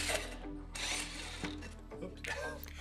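A drill bores a hole through wooden formwork for a ventilation duct during a renovation, with bursts of grinding, whirring bit noise broken by short pauses and a steady low hum underneath.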